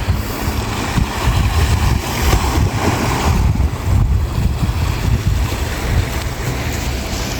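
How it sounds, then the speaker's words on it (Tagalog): A boat rumbles past over wind buffeting the microphone and the wash of waves, a steady low drone that rises and falls slightly. "napadaan ng isang bangka"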